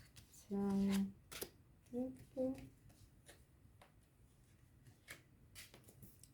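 Tarot cards shuffled and drawn, soft papery flicks and slides scattered through the clip, faint and close, between bursts of a humming or sung voice.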